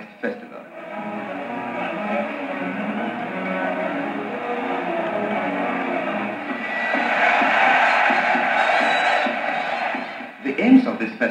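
A capacity stadium crowd of about 100,000 roars and cheers as national contingents from 47 countries parade at a Black and African arts and culture festival, a dense, sustained wall of noise with someone narrating over it.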